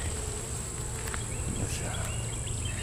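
Honey bees buzz steadily around an open hive during a summer inspection of a weak colony, a continuous close drone of many wings with occasional louder passes near the ear.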